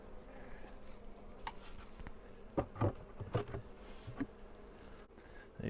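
Honey bees buzz steadily around beehives in warm winter weather, a soft, continuous droning hum with individual bees flying close by now and then, and no talking.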